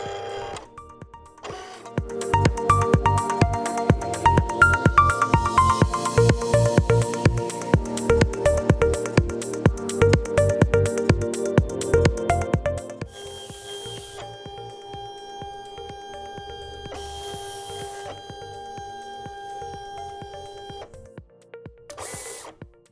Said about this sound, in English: just click the Send button, then click Send Mirrored and let your Cameo cut away